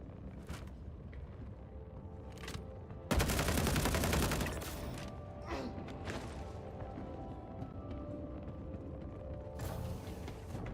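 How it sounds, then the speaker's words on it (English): Loud automatic gunfire from a gun in Star Citizen, one dense rapid burst lasting about a second and a half, followed by mechanical clanks and scattered single impacts over a steady game hum. "This gun is not a quiet gun. I'll say that. It's not quiet. It makes itself known"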